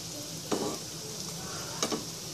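Quinoa meatballs fry in a pan over lowered heat, a steady faint sizzle broken by two brief scraping stirs, close by.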